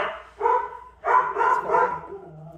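Several dogs bark close by in a house, a run of loud sharp barks and yips in quick bursts that trail off toward the end.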